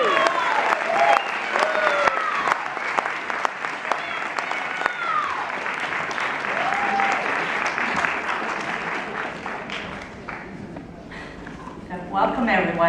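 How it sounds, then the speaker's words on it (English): Sustained audience applause at a community health worker certificate ceremony during a health department graduation, loud and steady with cheers and voices mixed in, fading slightly near the end. "Let's give them a round of applause."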